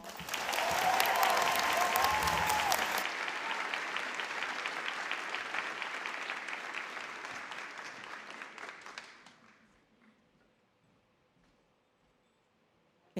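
An audience at a 2021 college academy graduation ceremony claps loudly and steadily for several seconds, then the applause thins and dies away into near silence.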